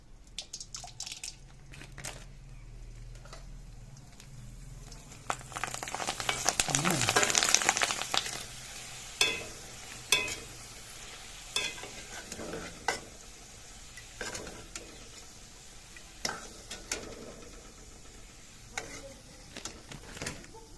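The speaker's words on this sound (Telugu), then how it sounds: "ఫస్ట్ పాపడాలు ఫ్రై చేద్దాం" Papads frying in hot, already heated oil in a home kitchen, a soft sizzle swelling to a strong hiss midway, then scattered crackles and crisp snaps as they are turned; faint voices in the background.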